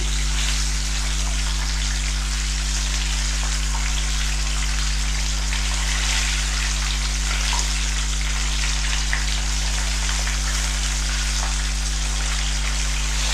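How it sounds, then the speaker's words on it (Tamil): Dense, constant crackling and bubbling of chicken deep frying in oil on a low flame, loud and steady, over a low electrical hum. "இதுக்கு மேலே நம்ம சிம்லேயே தான் வச்சு பொரிக்கணும்."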